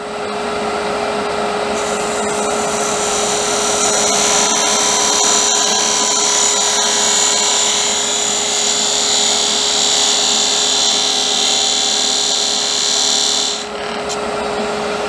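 A wood lathe spins a Christmas sphere ornament cap as a 1/4 inch round skew undercuts it, a loud steady whine with a high hiss lasting most of the stretch before easing off near the end.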